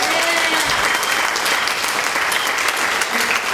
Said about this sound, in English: Can we get one more round of applause for Ronnie and Kathy for hosting this?